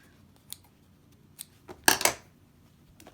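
Scissors trimming a finished quilting-cotton face mask: a few faint isolated snips, then a louder cluster of cutting crunches at the middle, with quiet room tone between.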